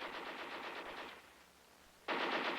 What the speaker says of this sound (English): The M60 light machine gun carried by each fire team added greatly to the firepower.